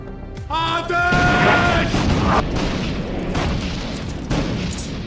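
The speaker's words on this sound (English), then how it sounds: "Mustafa ordered the walls to be bombarded with artillery." Artillery bombarding city walls during the 1683 siege of Vienna, a sound effect of deep booms and rumbling blasts running continuously, loud and dense, with a voice heard at the start.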